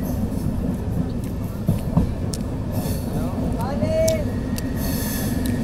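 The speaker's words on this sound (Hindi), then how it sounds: "देखिए देखिए भाई चंडीगढ़ से निकलती हुई हमारी ट्रेन" A Hemkunt Express passenger train pulling out of Chandigarh, heard from inside as a steady rumble with a brief wheel squeal, while people talk nearby over it.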